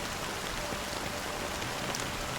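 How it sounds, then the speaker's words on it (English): Steady, dense rainfall in the video game Honkai: Star Rail, a soft even hiss of drops pattering on surfaces, continuous and moderately quiet with no voices. "literally the sound of the rain just made me sleepy"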